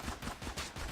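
Rapid gunfire from a weapon in the video game Dark Matter, a quick run of about five sharp, evenly spaced shots with no talk.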